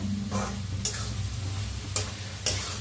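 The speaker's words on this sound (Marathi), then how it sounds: "आता छान भाजीला मिक्स करून घेऊया" Dill greens being stirred with salt in a pan, soft sizzling under a few sharp scraping strokes of a spoon, close and without talk.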